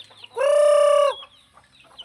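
A chicken lets out a single loud, drawn-out call lasting under a second, close to the listener, followed by faint scattered farmyard noises.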